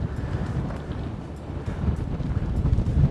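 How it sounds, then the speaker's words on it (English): Strong wind buffets the microphone on a coastal trail near a WW2 post and 17th-century wall at Wied Znuber, Birzebbuga, Malta, a steady loud rumbling gust throughout with no talk. "Very windy today"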